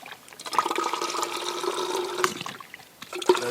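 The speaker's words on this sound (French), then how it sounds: "Maintenant je vais remplir ma gourde avec l'eau du lac, mais évidemment je vais la filtrer." A water bottle being filled with lake water at a mountain lake: splashing, gurgling water in short bursts, close and moderately loud, with brief pauses.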